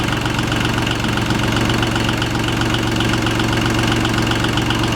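John Deere 850 tractor diesel engine idling, a loud, close, steady low chugging rumble with even rhythmic knock and vibration throughout, no voices.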